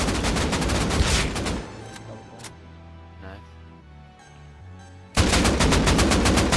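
Rapid automatic AK rifle fire in Rust Console Edition, loud dense bursts at the start and again at the end, separated by a quieter stretch of game sounds.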